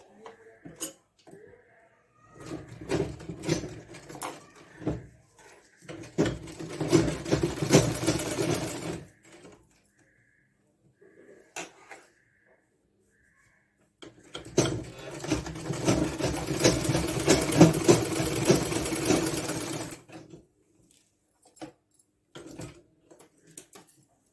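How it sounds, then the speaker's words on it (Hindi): A sewing machine stitches a lined blouse in two long runs of rapid, clattering stitches, with short taps and quiet pauses between them. "दबाने के लिए इसके ऊपर से एक और सिलाई लगाएंगे।"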